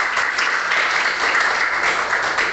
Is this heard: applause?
yes